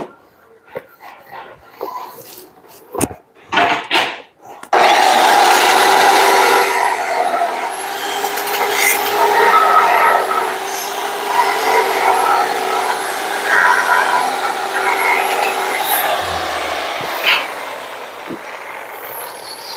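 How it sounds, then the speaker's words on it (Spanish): A handheld angle grinder fitted with an extension arm cleans rust from a Hendrickson truck suspension part, whining loudly and steadily for about fifteen seconds after a few short clanks and knocks at the start. "Ahora vamos a limpiar, que tenemos la pulidora con un alargue fabricado en Tainco."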